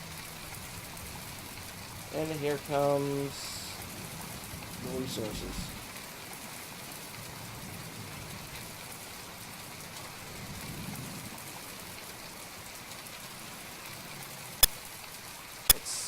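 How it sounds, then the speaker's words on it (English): Steady rain patters in the naval combat game From The Depths, a continuous hiss running the whole time while someone talks briefly early on, with a couple of sharp clicks near the end. "It's raining."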